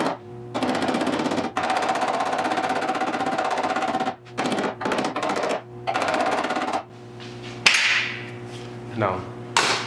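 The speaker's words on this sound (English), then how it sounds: "I have to hammer it down." Repeated hammering on sheet metal of a 1972 Triumph GT6 door in sustained bursts of rapid blows, with short pauses between runs, close and loud, ending with a few scattered knocks and clatter.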